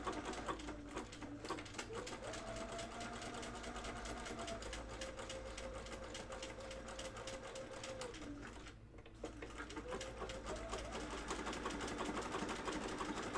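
A domestic sewing machine stitches denim jeans, a steady rapid mechanical whir and tapping that runs continuously with only a brief pause partway through.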